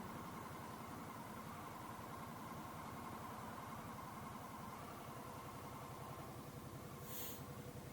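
A Harley-Davidson Sportster S or Nightster motorcycle engine idles with a steady, even low throb that continues without pause throughout, fairly close and unchanging.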